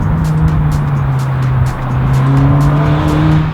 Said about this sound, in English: Exhaust is a pseudo SB2. It's pretty loud. It's pretty dang loud.